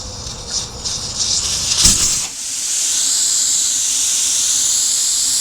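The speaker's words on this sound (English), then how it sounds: "So the easiest way to break the bead is, of course, let the air out of the tire." Air hisses steadily out of a tire through an open valve stem after the valve core is removed with a cable tool during bead breaking on a tire changer, a loud continuous close-up rush preceded by brief handling noise.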